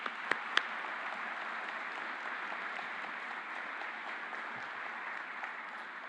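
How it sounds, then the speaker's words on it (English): A crowd at an outdoor ribbon-cutting ceremony for a water reclamation and reuse facility applauds a team, giving a steady wash of clapping throughout, with a few sharp louder claps near the start. "Please help me give Rachel and her team a round of applause."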